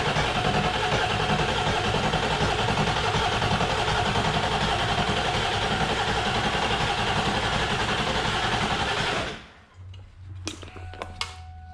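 Ford 7.3L Powerstroke diesel cranking over at length, a dense steady churning roar that runs unbroken for about nine seconds, then drops off abruptly into quieter low rumbling with a few faint clicks.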